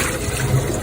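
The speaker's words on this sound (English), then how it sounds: "rinse off the salt that's on the surface" Running water rinses surface salt off a salted sea bream, a steady close hiss and splash of flowing water with no pauses over a brief moment.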